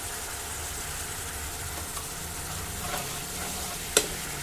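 Egg curry masala with salt and spice powder frying in oil while being mixed, a constant close hiss of sizzling with faint stirring and one sharp utensil tap near the end, no voices.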